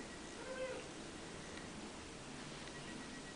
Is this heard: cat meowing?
yes